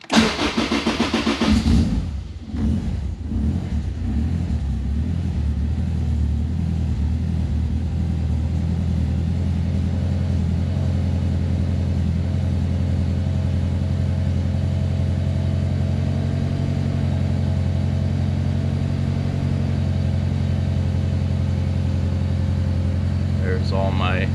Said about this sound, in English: Go ahead and start the car and you can see how everything works.